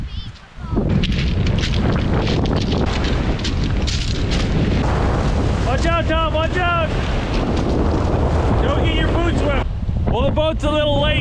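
A boat arrives at an Alaska island to pick up campers, its engine a steady loud rumble under heavy wind buffeting the microphone, with voices and shouts breaking in toward the end.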